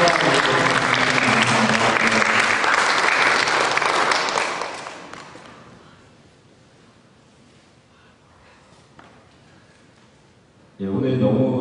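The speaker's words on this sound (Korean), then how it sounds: "박수 한번 쳐주겠어요" An audience at a Korean church's Christmas Eve student performance claps loudly for several seconds, the applause fading to quiet before a voice cuts in near the end.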